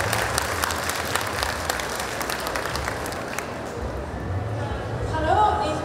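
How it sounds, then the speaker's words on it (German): Audience applause at a cosplay contest, loud at first then thinning and fading out toward the end as a voice begins. "auch für dich einen Applaus"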